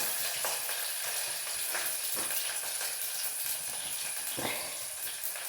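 A quiet, continuous hissing sizzle of onions and curry leaves frying in oil, with a few faint stirring taps and no talking.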